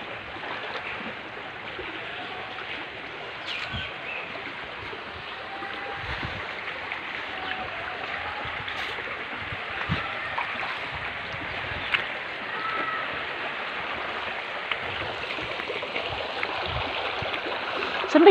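Steady rushing flow of a waterfall stream, a continuous broadband wash of water with light splashing and occasional small knocks, moderately loud and even throughout, with no talk.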